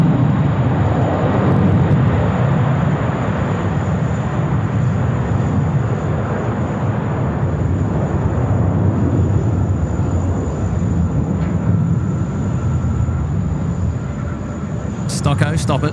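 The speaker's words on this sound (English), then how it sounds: "A big special welcome to the Qantas A321XLR now, taxiing down Bravo." A Qantas Airbus A321XLR airliner taxiing at Sydney Airport, a steady broad jet engine roar and rumble holding for the whole stretch at fairly close range, with a brief high sound near the end.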